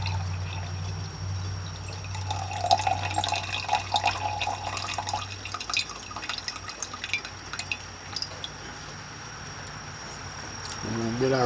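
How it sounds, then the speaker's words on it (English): Water is poured off from a dish during gold refining of computer scrap, a steady trickling and dripping stream running for several seconds, with a person talking over it. "I'm going to pour this water off."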